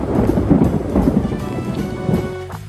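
Thunder rolls over heavy rain while walking outside in a downpour, the rumble loud and close at first, then tapering off as steady rain continues; no talking.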